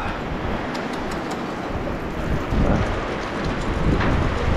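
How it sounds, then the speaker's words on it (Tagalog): Steady rain falls at a house construction site, a dense, even hiss of drops on surfaces that holds throughout and swells slightly toward the end, with no voices. "Ayan, umulan na po."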